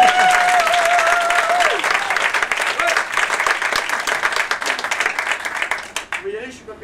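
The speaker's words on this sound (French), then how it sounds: "Mais vous pouvez applaudir quand même." Audience applause fills a hall, loud, steady clapping from many hands close by, with a voice rising over it at the start before the clapping thins out near the end.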